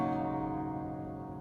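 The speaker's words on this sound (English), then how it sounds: "So that's the tuning. It'll sound like this on your guitar." Guitar with every string tuned a half step down, a single strummed chord ringing out and slowly fading, close and alone.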